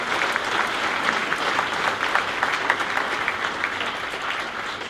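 A large audience claps steadily and loudly for the 2021 inductees at an annual sports Wall of Fame ceremony, a dense continuous applause with no speech over it.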